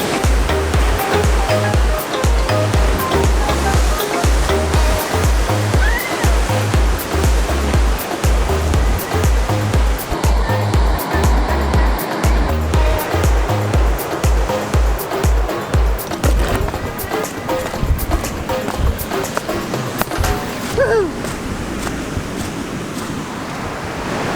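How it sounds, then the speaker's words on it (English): Ocean waves crash against coastal rocks below a cliff lookout on the Noosa coastal walk in Australia, a loud, continuous roar of surf with churning water and repeated heavy low thuds, no voices. "you can watch the waves crash into the rocks, and it's pretty intense but very cool"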